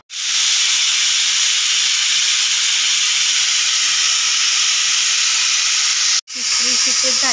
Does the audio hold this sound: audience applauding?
no